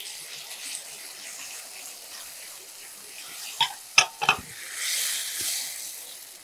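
Ground tomato paste going into a hot pan for a Tamil ridge gourd peel kuzhambu, giving a soft, steady sizzle with a few sharp clatters of a spoon against the pan as it is stirred.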